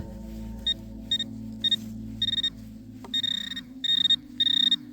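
A Minelab Equinox 900 metal detector, swept over ground in a forest, gives repeated short high electronic beeps in quick bursts that grow longer and more frequent over a low background hum.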